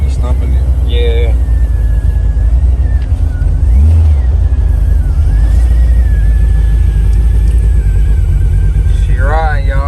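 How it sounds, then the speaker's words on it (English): A 1988 Chevrolet Monte Carlo SS with an engine swap drives along, its engine rumbling loudly and steadily from inside the cabin with a brief surge mid-clip, while someone talks over the noise. "She riding, y'all, grabbing all the gears, overdrive."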